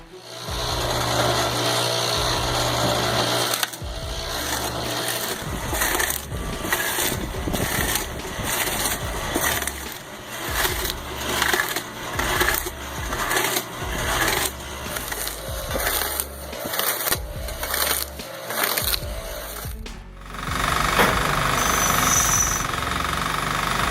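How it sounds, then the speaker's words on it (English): A firewood processing machine splits logs with loud, rhythmic crushing bursts over a steady engine drone, and a louder, smoother run of the engine near the end. "this splitter ensures consistent, smooth cuts for firewood"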